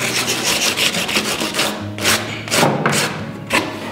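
A hand saw cuts through a wooden board for a bird feeder, with repeated rasping strokes in an uneven rhythm and a few thuds, close and fairly loud, with no talk.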